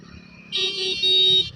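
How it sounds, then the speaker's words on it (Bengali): A vehicle horn on an Indian highway between Kolkata and Tarapith gives two short, loud honks in quick succession, close and clear above faint road noise. "চলো হর্ন মারো হর্ন মারো হর্ন মারো, হর্ন না মারলে হয়?"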